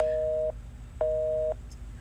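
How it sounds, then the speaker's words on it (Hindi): A phone call-waiting tone sounds during a call in a Hindi TV drama scene: evenly spaced electronic beeps, each about half a second long with equal gaps, heard plainly over a quiet background. "मेरा फोन ना वेटिंग पे आ रहा है।"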